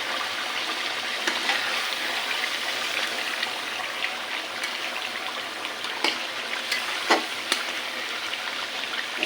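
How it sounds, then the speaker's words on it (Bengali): Beef cooking on a stove in its own released juices, without added water, gives a steady moderate simmering sizzle with scattered pops and crackles, heard close with no talking. "এখানে যে চুলায় আমি গরুর মাংস বসিয়ে দিয়েছি।"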